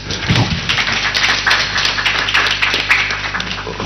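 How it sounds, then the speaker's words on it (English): Dense, continuous round of applause from an audience at an early childhood development panel discussion, a steady patter of many hands clapping at close range with no pauses. "Another round of applause"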